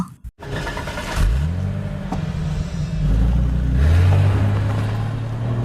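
A car on the move in a film scene, its engine rumbling loudly and steadily as it revs and pulls away, with the pitch climbing and settling through continuous driving.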